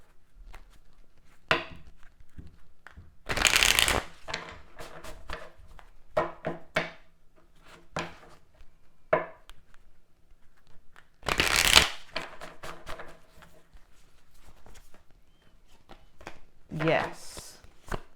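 Tarot cards are shuffled in short loud bursts with quieter card handling and taps between them, alongside a person talking.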